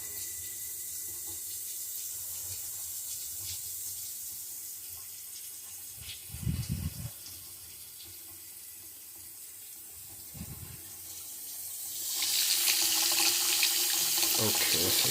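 A newly installed Delta bathroom sink faucet runs at full flow, a steady close hiss of water that grows louder and brighter near the end, with a couple of brief low knocks partway through.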